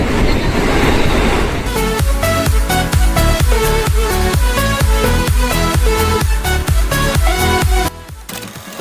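A train passes close by on a trip toward Puri in Odisha. Its loud, continuous clickety-clack of wheels on the rails beats in a steady rhythm, then cuts off abruptly just before the end.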